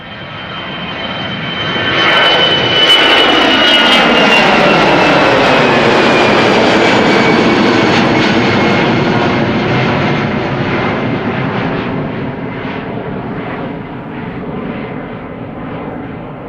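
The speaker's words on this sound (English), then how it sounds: "going to London Luton, A320, EasyJet." An EasyJet Airbus A320 departing Amsterdam Schiphol for London Luton roars past, its jet engine noise building quickly after a couple of seconds, holding loud and near, then slowly fading with a falling whine.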